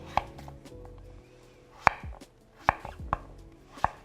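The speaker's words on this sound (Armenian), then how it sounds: "փորձեմ շատ արագ կտրատել եւ տեղափոխել արդեն ջրի մեջ" Knife chopping food on a board in sharp, irregular single strikes, about six over a few seconds, close and clear with no talking, likely vegetables being cut small before going into water.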